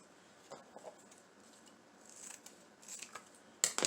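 Scissors snip through wreath craft material in a few quiet, separate cuts, with a louder, sharper snip near the end; no talking.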